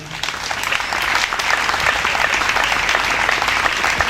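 A church congregation applauds steadily and loudly, a dense wash of many hands clapping continuously throughout, with faint voices mixed into the crowd noise.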